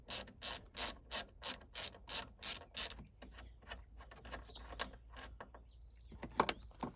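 A ratchet loosening the strut brace bolts on a Mini F56 Cooper S: about a dozen quick, evenly spaced clicking pulls, then quieter scattered mechanical taps and clinks nearby.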